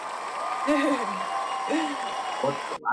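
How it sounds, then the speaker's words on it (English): Applause from a talk-show audience celebrating a couple's first wedding anniversary, a steady wash of clapping through the whole stretch with voices calling out over it and cutting in near the end. "We got a round of applause"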